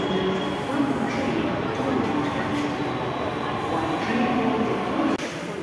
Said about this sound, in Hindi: यहाँ हमारी आ गई है मेट्रो।